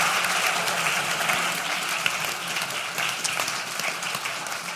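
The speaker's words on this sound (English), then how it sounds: "why don't we give our panelists a big round of applause?" Panel audience gives a round of applause, a dense crowd of clapping hands sustained at moderate loudness, tapering only slightly over the few seconds.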